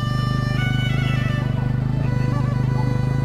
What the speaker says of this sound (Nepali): बाइक भएर मजाले उकालो तानेछ